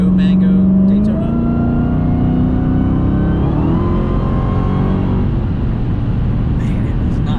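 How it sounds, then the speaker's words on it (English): A Dodge Challenger Hellcat Redeye engine roars loudly from inside the car, its pitch rising under throttle and then dropping and climbing again as it shifts gears, a close continuous drone. "as you go on the throttle, you hear downshift, and then you push a little bit more downshifts again"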